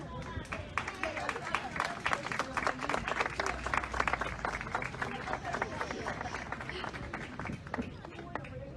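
An audience gives sustained, dense applause for ex-combatants. Many hands clap steadily for about nine seconds, with faint crowd murmur underneath.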